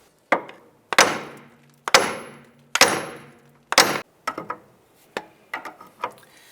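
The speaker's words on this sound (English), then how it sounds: "By doing the two hammers, it actually shocks the unit right here and pops that tie rod end loose" On a 2001–2005 Honda Civic, sharp metal hammer blows ring out against the steering knuckle to shock the outer tie rod end loose. About nine loud, close strikes come at a steady rhythm, each followed by a short ringing decay.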